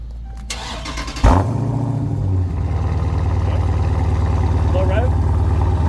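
A Dodge Scat Pack car with its stock exhaust, before a header install, cranks and fires up with a sudden loud burst, then settles into a steady, throbbing idle close by, with people talking over it.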